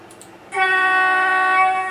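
A train horn sound effect labelled horn 01 blares in alone after a brief quiet lead-in, one loud sustained multi-tone chord that holds steady for well over a second without fading.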